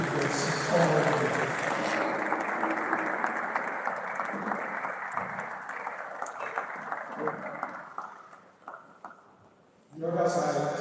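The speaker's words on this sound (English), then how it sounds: "Let's give another round of applause" Audience applause fills a hall during a university valedictory lecture, a dense steady clapping that gradually thins and fades out. Speech follows at the very end.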